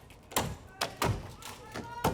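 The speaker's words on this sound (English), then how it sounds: "listen to the sound of the thuds going in" Axe blows thud into a wooden pole during a STIHL Timbersports chopping event in New Zealand, four or five heavy, dull strikes at an irregular pace, close and distinct over faint background crowd noise.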